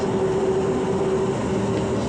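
A Lille metro line 1 train, rake MC 209, riding along with a steady broadband rumble and a constant whine, heard from on board, loud and continuous without talk.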